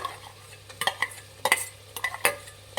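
Lima beans stirred in hot oil with tomato in a pan, a spoon scraping and clinking against the metal in quick irregular strokes over a faint sizzle, close and alone without any voice.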